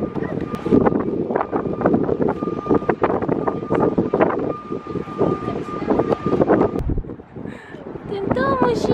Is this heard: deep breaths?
no